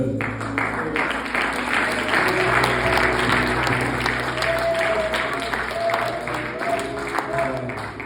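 Hand clapping from an audience at an evening church gathering, a sustained wash of applause over a low musical drone with voices mixed in, staying loud throughout.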